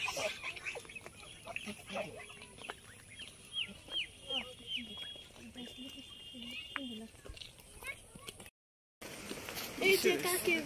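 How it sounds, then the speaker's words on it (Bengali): Ducks or geese call repeatedly in a village yard on Eid day, a string of honking quacks at moderate distance under intermittent nearby talk, with a brief gap near the end. "কত রাজা হাঁস।"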